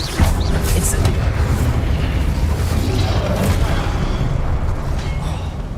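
A fire spell from Hogwarts Legacy bursts out with a loud, sustained roar of flame, a dense rumbling blaze that carries on steadily for several seconds without pause.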